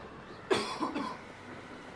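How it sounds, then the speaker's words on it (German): A person coughs into a microphone during a Hogwarts Legacy game session, with one sharp cough followed by a couple of smaller throat bursts over otherwise quiet game ambience. "Tut mir leid, ich habe Husten."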